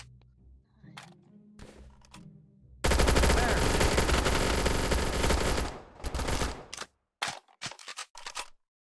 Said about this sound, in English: Why are we shooting each other?